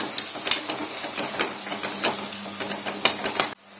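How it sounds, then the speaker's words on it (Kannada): Fresh green peas fry in a hot pan with a steady hissing sizzle and scattered small pops and clicks, close by, ending abruptly. "ಇದಕ್ಕೆ ಹಸಿ ಬಟಾಣಿಯನ್ನು ಕೂಡ ಸೇರಿಸ್ಕೊಳ್ಳೋಣ. ಒಂದು 2 ನಿಮಿಷ ಫ್ರೈ ಮಾಡ್ಕೊಳ್ಳೋಣ."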